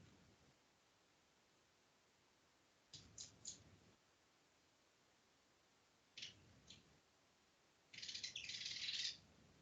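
Short bursts of high bird chirps come in three separate spells, the last one longest and loudest, with near-silence between them.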